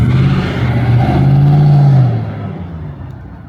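An old, crude agricultural-style car runs at a motor museum outdoor display, its engine a loud low rumble that rises into a steady droning pull and then fades away as it moves off.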